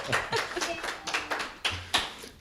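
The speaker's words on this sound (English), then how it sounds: "Round of applause." Brief, light applause from a small audience at a poetry reading, a handful of distinct claps close by, scattered and thinning over a couple of seconds.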